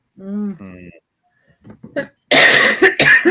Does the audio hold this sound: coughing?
yes